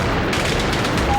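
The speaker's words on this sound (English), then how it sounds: "As a series of massive explosions leaves firefighters stunned" A series of massive explosions at a fire in Kolding, Denmark, heard as dense, loud, continuous rumbling and popping blasts, like rapid gunfire, with no clear gaps between them.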